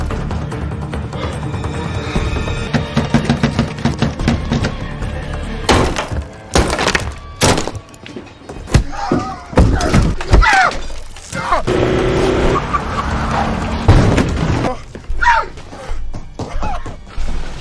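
A wall being smashed through in the 2016 film Bastille Day: repeated heavy thuds and crunching breaks with scattered debris rattling, loud and close, in irregular bursts under a busy film soundtrack.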